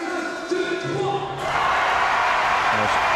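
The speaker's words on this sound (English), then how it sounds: "Julien does what he can to keep this crowd going and keep that noise motivating this French team" Crowd noise swells at a sitting volleyball match during a timeout in the France women's game, a broad, steady roar that rises sharply midway and stays loud, with some voices and shouts mixed in.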